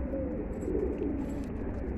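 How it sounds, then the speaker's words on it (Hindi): Pigeon cooing in a bush, soft repeated low coos close by against a steady background hum, lasting about two seconds. "नया कबूतर है ये, झाड़ में बैठा हुआ था।"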